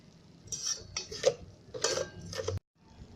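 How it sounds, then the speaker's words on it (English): A spoon scrapes and clinks against a rice cooker pot while green chilli is mixed into fried onion, giving a few irregular metallic stirring bursts at close range, then an abrupt cut to near silence. "Mix the chilli with fried onion."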